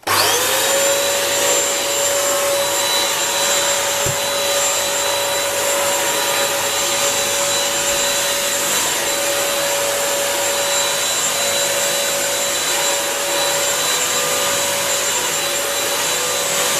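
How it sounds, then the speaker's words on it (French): Bissell Crosswave 17132 wet-dry floor cleaner running in vacuum-only mode without water, a loud, steady motor drone with a high whine that holds unbroken from start to finish, close by and alone. "Je vais donc maintenant passer en mode aspirateur seul, sans mettre de l'eau, pour enlever tout ce qui reste."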